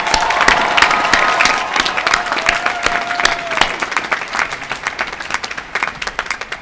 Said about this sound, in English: I think it deserves one more round of applause.